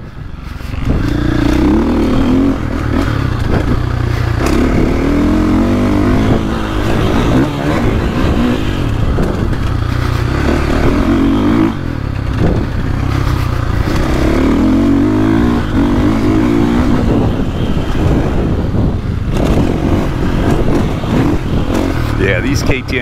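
A 2024.5 KTM 450SXF Factory Edition dirt bike engine revs and pulls continuously while being ridden, loud and close throughout with rising and falling throttle, and a voice talks over the engine.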